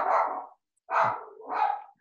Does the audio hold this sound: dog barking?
yes